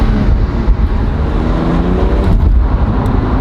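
A BMW M2 fitted with an M4 engine and a clutch pedal cruises on the road, its engine and road noise forming a loud, steady rumble inside the cabin.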